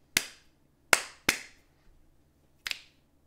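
Four sharp, close hand claps used as a sync marker, spaced irregularly over a few seconds in a quiet room with faint background hum and no speech.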